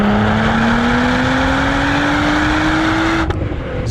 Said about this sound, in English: Just the sound and the tone of the exhaust sounds so freaking amazing.